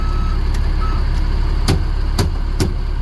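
Reversing beeper on a truck with an AT545/MT643 transmission after a shifter cable adjustment: three sharp evenly spaced beeps over a steady loud engine idle, no talk.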